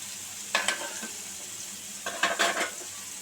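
Onions sizzle and fry in a pan as a large spoon stirs them in two short bursts, with a steady hiss of frying between the stirs, close and fairly quiet.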